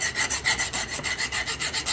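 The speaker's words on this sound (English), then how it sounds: "I used a steel a file here. Just hear that sound." A steel file rasps across a hard arc-sintered metal piece in steady back-and-forth strokes, about eight rhythmic scraping passes, close and moderately loud with no talking.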